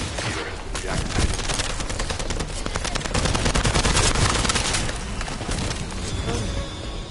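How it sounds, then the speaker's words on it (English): Dense, sustained bursts of rapid automatic gunfire with overlapping shots and explosive cracks, loud and continuous throughout, from a firefight in the video game The First Descendant. "That stopped the gunfire."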